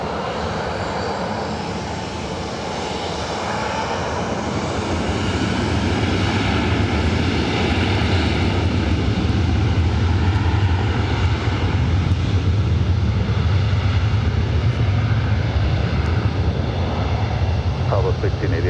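Jet airliners at LAX airport, Airbus A319, A320 and A321 and Boeing types, producing a loud, steady engine roar that swells after a few seconds and holds, with voices underneath.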